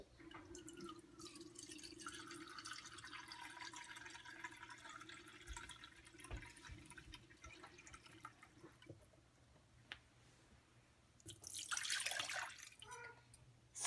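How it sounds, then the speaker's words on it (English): Water, 250 millilitres, is poured into a vessel, with a faint steady trickle and drips over a low hum, then a brief louder splash near the end; no one speaks. "I'm putting in 250 milliliters of water."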